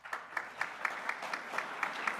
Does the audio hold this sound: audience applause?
yes